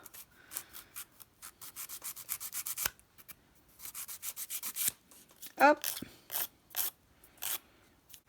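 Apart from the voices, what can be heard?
nail file filing fingernail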